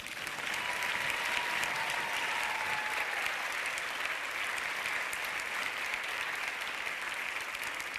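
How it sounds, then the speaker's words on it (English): Applause from an audience welcoming a film director at an award event: a continuous, even wash of many hands clapping at moderate loudness for the full length, without speech. "A big round of applause, everyone, for Oksana Karpovic."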